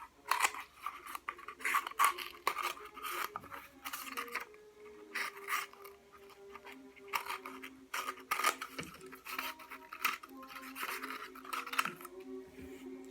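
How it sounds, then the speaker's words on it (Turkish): Repeated crisp snips and scraping of scissors cutting through paper, close up, in quick irregular bursts with brief pauses. "Fazla olan kısmı makasla keserek"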